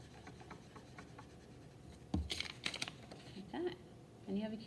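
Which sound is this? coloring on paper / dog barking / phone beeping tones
coloring on paper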